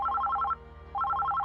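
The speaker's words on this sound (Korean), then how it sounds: "그때 책상에 놓인 전화가 요란하게 울렸다." A desk telephone rings loudly in a Korean horror audio drama, two bursts of rapid trilling bell rings separated by a short gap, close and alone.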